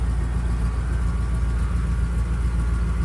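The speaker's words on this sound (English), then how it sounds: "fired right up, and it's idling" A 1972 Jeep CJ5 engine idles steadily with a low, even rumble, running without revving the whole time.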